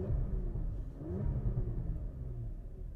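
Cabin of a 2023 Porsche Macan S at night with the windows closed: a deep, muffled exhaust rumble that swells and eases as the engine revs, steady and close.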